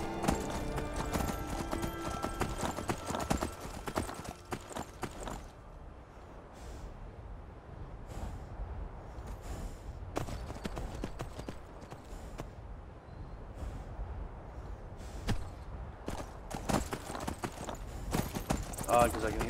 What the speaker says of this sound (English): I can hear the horse breathing